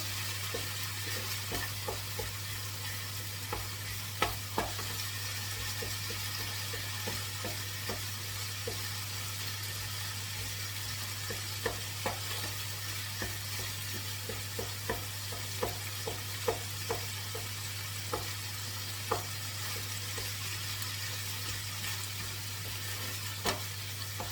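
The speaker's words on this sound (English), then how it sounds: "Let's give this a stir" Tofu and potato filling with all-purpose seasoning fries in a pan while being stirred: a steady, close sizzle runs throughout, broken by scattered scraping clicks of the spoon, with no voices.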